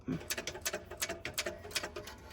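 A sewing machine runs a back stitch at a five-stitch length while sewing a tote bag, a quick steady patter of needle strokes with rapid mechanical clicks, close and alone.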